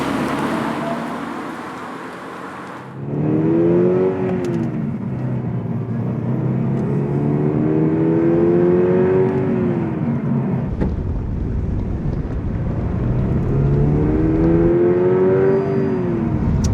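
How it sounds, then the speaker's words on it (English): Subaru BRZ tS sports car driving on a road, its engine climbing through repeated strong acceleration pulls with rising tone and gear changes, loud and steady throughout with no talk. "let's take the Subaru BRZ TS for a bit of a blat"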